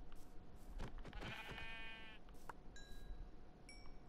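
Sheep in the Minecraft video game bleat once, a faint wavering call over steady background game noise, followed by a few brief electronic tones.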